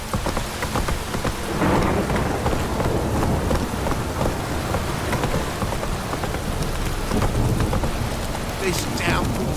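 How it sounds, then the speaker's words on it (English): A heavy downpour in The Witcher 3 pours steadily with dense rain hiss and rolling rumbles of thunder, and brief voice sounds surface near the end. "This downpour's a bastard"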